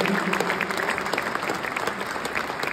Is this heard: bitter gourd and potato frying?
no